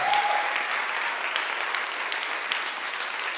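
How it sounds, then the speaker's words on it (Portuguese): Dense, steady applause from a church congregation, many hands clapping together at an even level for the whole stretch with no voices standing out. "Pode aplaudir ao Senhor."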